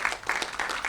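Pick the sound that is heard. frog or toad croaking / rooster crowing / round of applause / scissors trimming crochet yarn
round of applause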